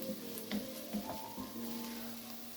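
A soft, steady sizzle of vegetables browning in a pan for lobster bisque, broken by a few light stirring taps and scrapes.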